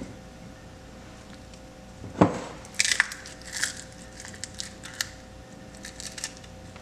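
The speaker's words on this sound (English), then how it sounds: "Then I have some walnuts I'm gonna crush up and put on top." Walnuts being crushed for an oatmeal topping, a few sharp crackling snaps close by over a low steady hum in a kitchen, with scattered lighter clicks afterward.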